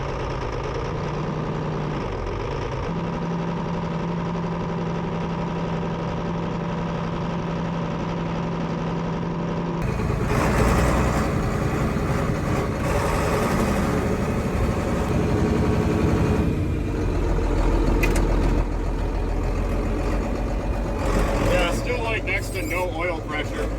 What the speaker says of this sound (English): that motor was clanking